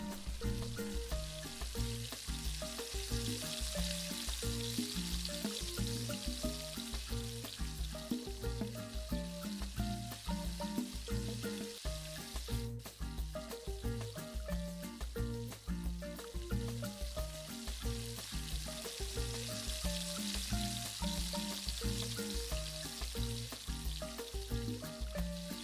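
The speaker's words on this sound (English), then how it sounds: "In the same pan I just added little more oil to aid in the frying of the veggies." Onions and vegetables fry in oil in a pan, a steady, dense sizzle running continuously and fairly close, with no talking.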